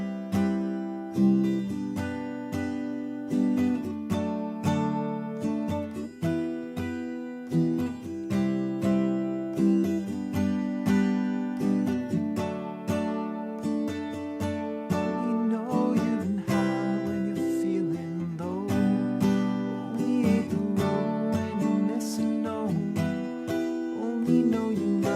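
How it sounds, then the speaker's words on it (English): Acoustic guitar strummed through the chorus chords of a song in a steady down-down-up pattern, ringing chords played continuously and up close with no voice. "doing our down, down, up strumming pattern, it's going to sound like this."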